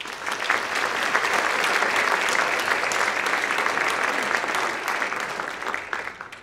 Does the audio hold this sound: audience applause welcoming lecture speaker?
yes